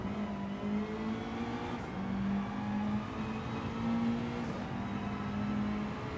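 A race car engine in a racing video game holds a steady, near drone on the fastest part of the track, with only small pitch shifts and no voices.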